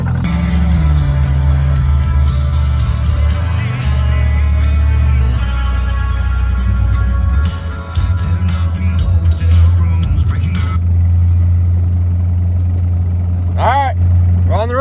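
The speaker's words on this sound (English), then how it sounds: "we're gonna run down the road in the Corvette to service call" A Corvette engine drones steadily on the road with constant road and wind noise, close and loud, while people talk over it throughout.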